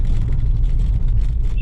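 A car drives along a road, its low engine rumble and tire noise steady and close throughout, with faint voices mixed in.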